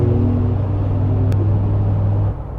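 A 2025 Mercedes-Benz G63 AMG engine rumbles loud and close in a brief downshift, a deep steady drone that drops off abruptly near the end.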